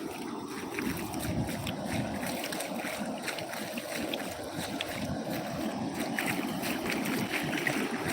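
Floodwater rushing through a village river in Jamnagar district, a steady broadband roar of flowing water with wind buffeting, continuous and fairly close.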